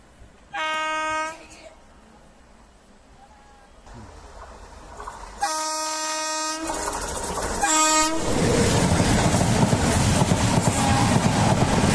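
A train horn blows several times, then a train rumbles loudly past close by at Panvel railway station, Navi Mumbai, its wheels clattering over the tracks.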